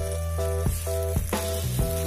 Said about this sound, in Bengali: দেখো কত সুন্দর ফুটছে